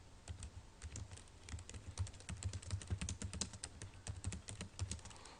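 Fingers type rapidly on a computer keyboard while writing in MS Word, a steady run of close, light key clicks and taps with no talking.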